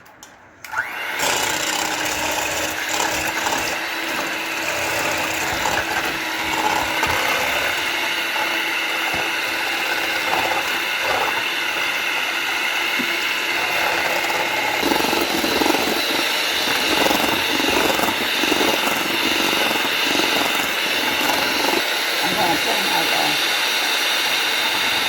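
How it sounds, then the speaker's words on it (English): A handheld electric mixer whirs steadily while whipping a condensed milk and vanilla mixture for homemade ice cream, a continuous buzzing, rattling drone close by that runs throughout, with a person talking at times. "this mixer is not doing right"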